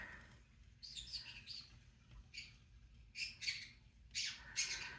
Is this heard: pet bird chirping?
yes